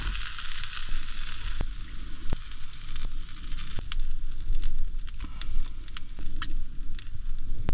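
Fried breakfast sizzling and crackling steadily in a frying pan inside a car, a dense close hiss with scattered sharp pops and spits throughout.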